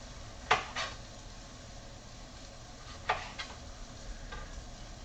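Tomato slices frying in a pan for a vegetarian sandwich: a faint, steady low sizzle broken by a few sharp, isolated pops and spits, close and quiet, with no voices.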